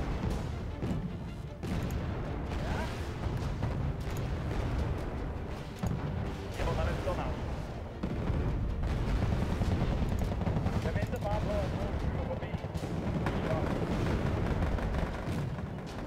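Gunfire from a tank firing while moving in the war strategy game Wargame: AirLand Battle plays as a dense, continuous rumble of booms and explosions, with players talking over it.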